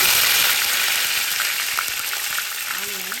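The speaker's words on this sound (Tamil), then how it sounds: "நல்லா வதக்கிக்கலாம்" Steady, loud sizzling of onions sautéing in hot oil, a continuous crackling hiss with occasional pops and a brief stir near the end.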